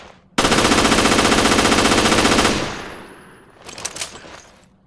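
Full-auto burst from a Glock 18 automatic pistol in the video game Resident Evil: Revelations, a loud continuous stream of rapid shots lasting about two seconds, then tailing off into reverberant decay and a few faint clinks.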